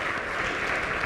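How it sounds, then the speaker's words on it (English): An audience at a start-up competition finale claps for the event sponsors, a brief, even roar of many hands clapping at steady volume, with no speech over it. "Let's give a round of applause to our sponsors for helping make this happen."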